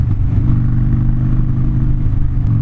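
A 2014 Harley-Davidson Dyna Street Bob runs steadily at idle, with a loud, close, low, lumpy rumble throughout and no talk.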